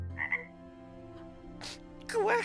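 A cartoon frog-king from Shrek 2 lets out a few croaks, a short tonal call early and then a louder, warbling croak at the end, clear and close with no talk.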